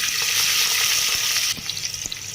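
Onion sizzling loudly in hot oil with garam masala for matki pulao, a bright continuous fry that drops in level partway through, followed by lighter crackles and pops.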